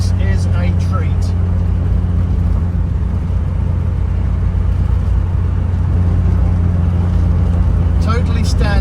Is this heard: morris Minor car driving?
yes